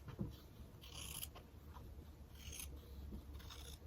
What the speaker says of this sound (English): I take my scissors and I trim around the edge